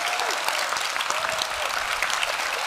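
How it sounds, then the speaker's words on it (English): A film festival audience at an actors' talk with Stellan Skarsgård gives warm applause, a continuous, even roar of many hands clapping throughout. "please give a warm applause for Stellan Skarsgård."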